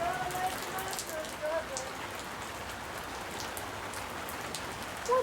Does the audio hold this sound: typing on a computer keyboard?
no